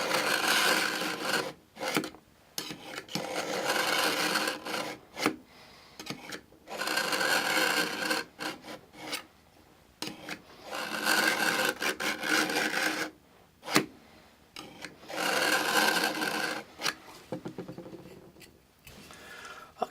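Steel knife blade drawn repeatedly across the coarse side of a Smith's sharpener, a close rasping scrape in a dozen-odd strokes separated by short pauses, with no talk.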